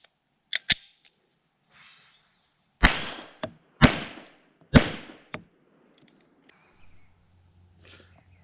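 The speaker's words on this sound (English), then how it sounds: "And now 3 rounds of the subsonic 9mm." Three loud, sharp unsuppressed gunshots from subsonic 9mm rounds, evenly spaced about a second apart with brief echoing tails, preceded by a couple of small clicks and followed by quiet.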